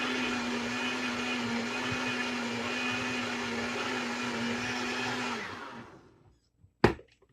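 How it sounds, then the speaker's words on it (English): A kitchen blender whirs steadily while blending green juice with added honey, running at an even drone for several seconds before spinning down to silence, followed by a single sharp knock. "I'm going to put some honey in it, and just a quick little blend again"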